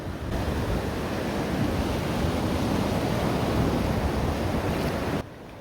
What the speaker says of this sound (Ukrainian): послухати тишу, спів пташок, шум вітру та океанських хвиль